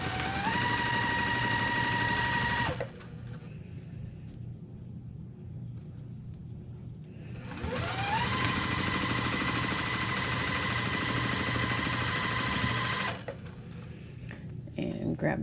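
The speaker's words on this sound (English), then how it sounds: "now we're going to sew these units together, and then that will complete our four quadrants" A sewing machine stitches quilt block units together in two long bursts of steady, rapid mechanical whirring, each run stopping abruptly with a quieter pause between them, close and loud.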